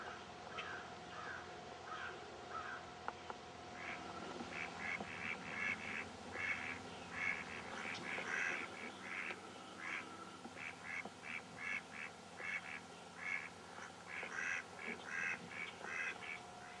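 Ducks quack in repeated bursts on an ice pond on Monhegan Island, Maine, the calls fairly distant and clustered, some overlapping, over a quiet outdoor hum.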